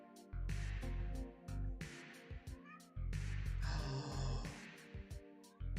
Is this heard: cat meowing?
yes